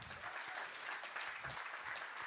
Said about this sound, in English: Start clapping. Start clapping them up.